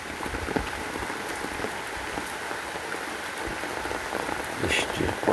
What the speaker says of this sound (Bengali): পুকুরে বৃষ্টি হচ্ছে